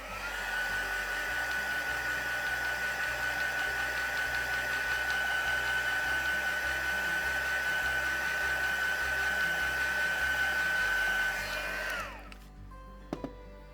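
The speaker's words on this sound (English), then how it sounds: "So we are going to give it a quick heat set." Heat gun blowing steadily on a butterfly dreamcatcher craft to dry and heat-set the paint, a loud continuous whooshing hum with a steady whine, then cut off near the end, leaving a few small clicks.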